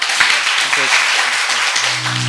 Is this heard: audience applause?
yes